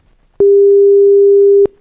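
A single clean, constant 400 Hz tone, slightly higher in pitch, holds for just over a second, then cuts off sharply; nothing else is heard.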